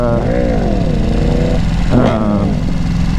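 A loud sport motorcycle engine and exhaust drone steadily up close, the pitch rising and falling as the throttle is blipped, with wind noise throughout.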